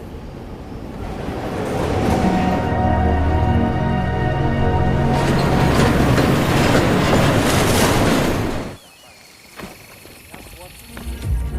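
A train rolls along the rails with a loud, steady rumble and rhythmic clatter of the cars, then falls away abruptly to quieter surroundings with a few scattered clanks.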